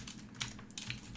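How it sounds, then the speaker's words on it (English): Quiet, scattered keystrokes on a computer keyboard, a few soft clicks over a low hum, as someone types out a kernel exploit. "now we are going to type this exploit out"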